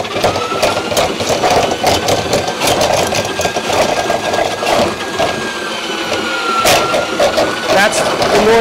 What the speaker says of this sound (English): That's the noise that the machine will make when it's under stress.